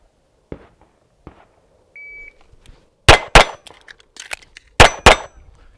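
Pistol shots ring off an Action Target static steel target, several sharp impacts in two close pairs with metallic clangs, loud against a quiet range, with a brief electronic beep before them.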